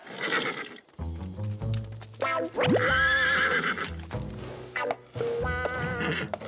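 A cartoon horse neighs loudly and close by, a long shrill whinny followed by another, over a busy background of other sounds.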